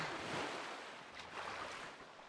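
In a Zelda video game, a character plunges down into water with a soft, washing splash and surf-like rush that swells and then eases, faint and alone.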